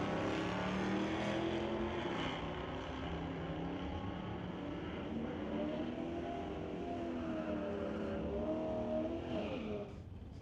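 Drag racing cars, a Plymouth against a Ford Mustang, launch at the Doorwarz 12 event, their loud sustained engine roar climbing in pitch as they accelerate away before dropping off at the very end.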